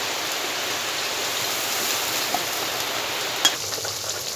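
Water added to a spice masala frying in a pan, producing a steady, even rushing sizzle throughout with a single small clink near the end.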